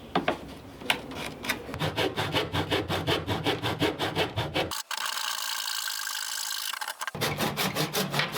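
A hand saw cuts through wooden casing on a reclaimed shed window, a close, rhythmic rasping of steady back-and-forth strokes that pauses briefly into a smoother grinding stretch before the strokes resume, with no talk.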